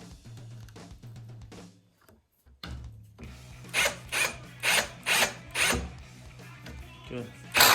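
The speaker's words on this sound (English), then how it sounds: "start that with the hand drill" A hand drill drives a screw into the front piece of a Shift MNC backcountry ski binding, giving a run of short, fairly loud whirring bursts in a steady rhythm, with talking nearby.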